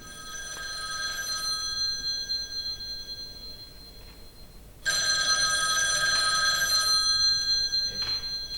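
A telephone bell rings in a room, one bright trilling ring, a short quiet gap, then a second louder ring that continues to the end, with no talking.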